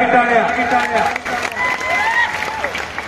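Crowd at a traditional kushti wrestling bout clapping and cheering, a dense wash of applause mixed with an announcer's amplified voice and other voices.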